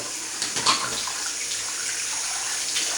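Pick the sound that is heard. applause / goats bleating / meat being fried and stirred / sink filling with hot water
sink filling with hot water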